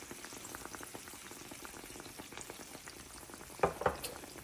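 Wine sauce with pork chops and fennel seeds bubbling and sizzling in a pan, a steady soft fizz with a couple of brief louder pops near the end.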